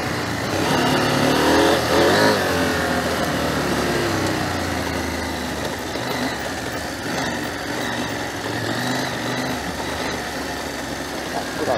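A trail motorcycle engine drones steadily while being ridden, a continuous mid-pitched hum with mild rises and falls in revs, close and even throughout with wind noise mixed in.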